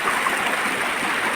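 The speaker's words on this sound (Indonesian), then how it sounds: "Tuh ada air terjun di sana." A waterfall at Riam Semaba pours into a forest river, giving a steady, dense rush of falling water that holds level and close throughout, with no voices.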